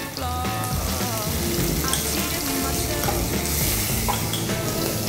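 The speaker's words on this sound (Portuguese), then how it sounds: "E na manteiga vamos colocar aqui nossa cebola e nosso alho." Onion and garlic sizzle loudly in melted butter in a pan for a mushroom risotto, giving a steady, close crackling hiss with occasional stirring scrapes and no talk.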